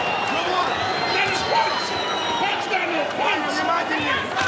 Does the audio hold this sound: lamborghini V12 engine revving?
no